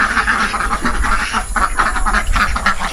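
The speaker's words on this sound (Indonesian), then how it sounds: "Nah, ini bebek-bebeknya pada kumpul semua. Kayak konser ya." A flock of ducks on a farm in North Kalimantan quacks together loudly and close up, in overlapping, repeated bursts of calls with no pause between them.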